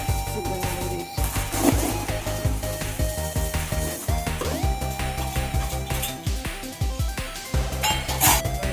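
A steel utensil repeatedly scrapes and clinks against a metal pot or bowl, mixing Virani chatpata masala into homemade namkeen with a steady rhythm of close, bright metallic strikes.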